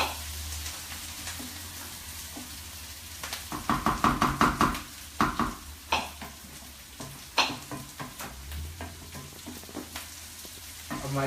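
Onions cooking in a pan for aloo gobhi, a low sizzle broken by a run of spatula knocks and scrapes against the pan, moderately close with no talking.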